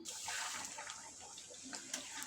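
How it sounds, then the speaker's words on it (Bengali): Warm water poured into a pot of Bengali mutton curry, a steady splashing gush that runs close and moderately quiet throughout. "মাংসের ঝোলের জন্য দিয়ে দেব উষ্ণ গরম জল"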